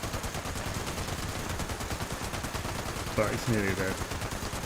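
Rapid gunfire rattles continuously through a fight in the video game Fallout 76, steady and close, with a voice speaking briefly over the shots near the end.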